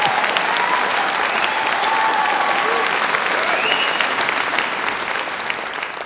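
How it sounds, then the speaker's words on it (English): A large audience at Moody Founder's Week claps steadily for about six seconds, a dense, even wash of applause that holds its level throughout and tapers only slightly at the end, with no one talking over it. "You can clap a little if you want to."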